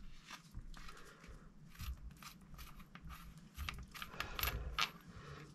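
Parts of a BSA R12 CLX air rifle regulator being unscrewed by hand, heard as quiet, close metallic clicks, ticks and small clinks in irregular bursts with no talk.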